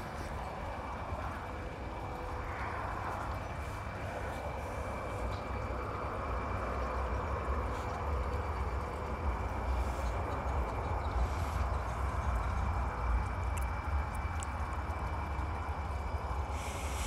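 A freight train rumbles along a railroad line near Oak Hill, Ohio, a steady low roar with faint rhythmic clatter, heard from a distance and constant throughout with no talking.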